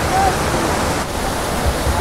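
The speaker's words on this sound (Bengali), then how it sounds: "প্রায় 3টে-4টে জায়গা থেকে জলের ঝর্ণা জলের ধারায় নেমে একটা জায়গায় মিলেছে মাঝখানটায়" Several waterfall streams join in one pool near Jhalong in Kalimpong district, making a steady, close rushing hiss of falling water with no break.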